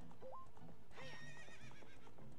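Horse neighing in The Legend of Zelda: Ocarina of Time, a loud whinny with clip-clopping hooves underneath, set against game music.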